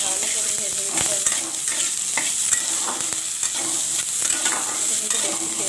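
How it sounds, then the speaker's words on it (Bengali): Chopped onion and garlic frying in a little oil while being stirred, a continuous loud sizzle with frequent scraping and stirring knocks, close by and without talk. "ভালো করে ভেজে নিতে হবে"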